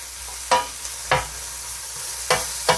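Chorizo sizzles steadily in a frying pan while a utensil chops and stirs it, with four sharp scraping knocks spaced irregularly over a continuous frying hiss.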